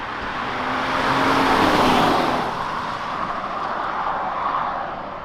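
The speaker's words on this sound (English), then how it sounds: "let you listen to the engine" The engine of a Hyundai Azera accelerates in sport mode during a night drive, a steady broad roar that swells toward the middle and then eases while cabin road noise continues throughout.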